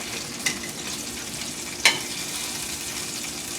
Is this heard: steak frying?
yes